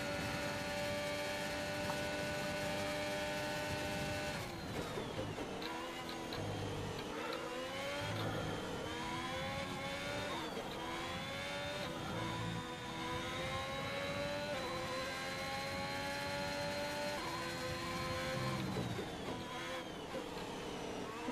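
An old Mercedes car engine runs continuously with a steady mid-range drone and shifting harmonic tones as it revs up and down, loud and close throughout, with no talking.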